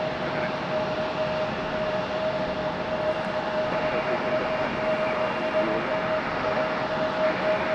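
An airliner arriving from West Palm Beach taxis to its gate at Raleigh-Durham airport, its engines a constant moderate whine and rumble with a thin steady tone running through it.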